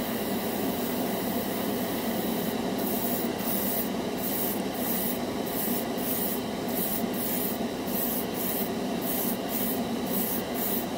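A cheap dual action airbrush sprays a coat of paint as a steady, close airy hiss that runs through the whole stretch. Rapid on-off pulses of spray come in the second half, with no talk.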